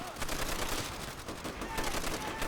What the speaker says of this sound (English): let's shoot them with the anti-aircraft guns